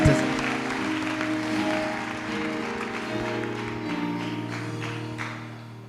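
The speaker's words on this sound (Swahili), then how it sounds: "Mpe Yesu makofi" A church congregation claps in praise of Jesus, dense sustained applause filling the room from a sharp start and fading slightly toward the end.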